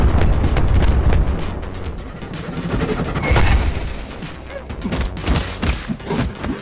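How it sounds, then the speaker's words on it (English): Banana bomb explosions in the video game Eastward, a rapid barrage of heavy booms and thuds rumbling loudly, then thinning into scattered softer bursts. "Ah, shit, banana bombs."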